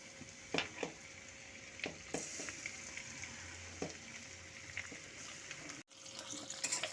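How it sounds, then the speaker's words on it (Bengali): Besan-coated paneer pieces deep frying in hot oil and ghee give a steady, soft sizzle with scattered pops and a few louder crackles, and a brief pause near the end. "এখন আমি এর মধ্যে বেসনে কোট করা পনিরের টুকরোগুলো দিয়ে দেব"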